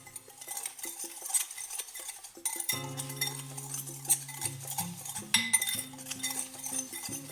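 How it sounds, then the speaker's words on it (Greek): A spoon stirs cornflour into sugar in a bowl, giving quick clinks and scrapes against the sides over steady background music. "παίρνω το corn flour, βάζω μέσα στη ζάχαρη, το ανακατεύω για να μην μου κάνει σβόλους"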